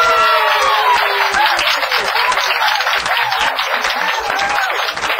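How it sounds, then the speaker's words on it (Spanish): A crowd applauds students from a New York high school for medical sciences: loud, dense clapping sustained for the whole stretch, with a few voices calling out near the start. "aplauso para ustedes"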